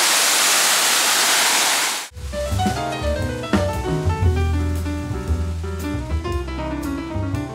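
Flowing water at a mountain spring on a multi-day trek in the Central Balkan range, steady broadband rushing for about two seconds before giving way to other, tonal sound.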